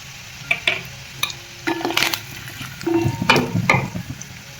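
Curry leaves dropped into garlic already frying in hot oil, bursting into short crackling sizzles with a few louder spits against a steady frying hiss.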